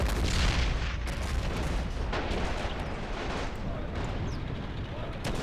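Heavy in-game battlefield fire from an anti-tank gun in Men of War: Assault Squad 2, a continuous roar of booming shots and rumble over dense combat noise throughout.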